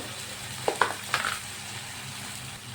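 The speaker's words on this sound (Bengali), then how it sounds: "মশলাগুলোকে আমি ভালোভাবে কষিয়ে নেব" Soft sizzling of spices with turmeric powder frying in a pan for soybean kofta curry, with a few sharp clinks of a spoon against metal, steady frying continuing after the stirring stops.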